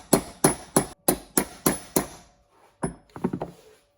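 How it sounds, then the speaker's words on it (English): A body hammer strikes the inside of a metal part to flare it out on a 2009 KTM RC8 motorcycle: seven loud, evenly spaced metallic blows, a pause, then a softer, quicker flurry of lighter taps. "taking this body hammer and just smacking the inside of this, flare it out a little bit"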